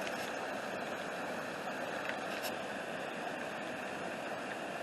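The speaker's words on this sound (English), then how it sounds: "You can see the water flowing" Water released from a dam flows down toward Autauga Creek, a steady, continuous broadband rush heard from a distance, unchanging and fairly faint, with no voices.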